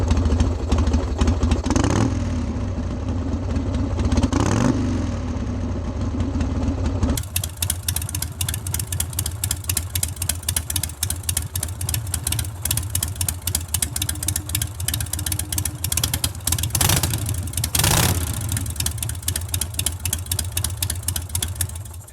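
A Harley-Davidson Sportster with a Lowbrow Customs Shotgun aftermarket exhaust idles, blips a couple of times, then settles into a loud, throaty, rapidly pulsing exhaust rumble with a sharp rev near the end.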